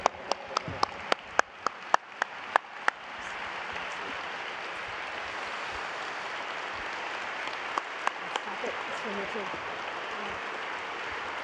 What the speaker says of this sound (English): they're applauding for you